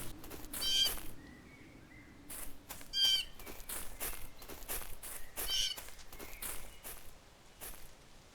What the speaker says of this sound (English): they didn't know that squirrels barked